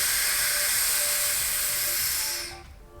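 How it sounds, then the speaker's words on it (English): A loud, continuous high hiss of pressure venting from a hot-tap drilling chamber on a flanged ball valve, holding steady and then cutting off abruptly near the end. "Releasing the pressure from the drilling chamber."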